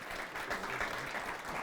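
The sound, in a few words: applause for bowling tournament winner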